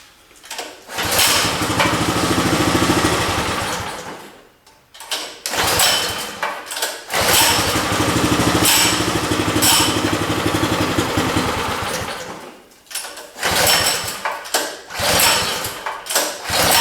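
A rusty small engine with a bad carburetor and little fuel in the tank sputters to life in three rough bursts, cutting out between them. It runs loud and close, with uneven firing before each stall.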